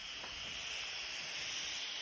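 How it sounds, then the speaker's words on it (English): Steam hisses steadily from the pressure release valve of an Instant Pot cooking pinto beans, a continuous close, bright hiss that holds an even level with no talking. "the steam is coming right out of there."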